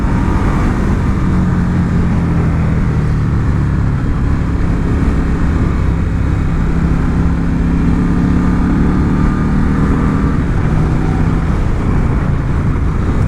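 An Indian Scout motorcycle engine pulls steadily while ridden on the open roads around Lake George, a loud, constant drone mixed with wind rush that holds unbroken for the whole stretch, with no talking.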